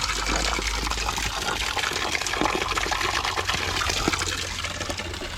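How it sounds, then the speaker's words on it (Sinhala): A clean forest stream flows along the way to Sudagala. It makes a steady, close rushing and gurgling wash that holds at an even level throughout, with no voices. "ඒ තරම් පිරිසිදු වතුර පාරක් තමයි මේ කැලේ හරහා අපිට ලැබෙන්නේ"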